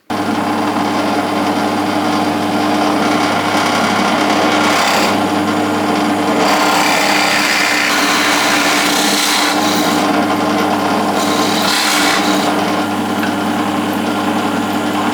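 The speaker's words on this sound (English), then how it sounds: "So we want a 32mm drill bit." Steady loud motor drone of a power drill with a 32mm bit, grinding, rasping bursts as it bores into wood, continuous and close.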